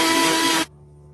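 Mixer grinder whirring as it grinds leaves with salt, ginger and water, a loud, even motor roar that cuts off abruptly partway through, leaving only a faint residual hum.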